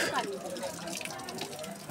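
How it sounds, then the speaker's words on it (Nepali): Water pours steadily from a historic stone spout at a park in Dharan, a continuous close splashing rush with no break. "चिन्डोबाट चाहिँ पानी यसरी सरेर बग्छ।"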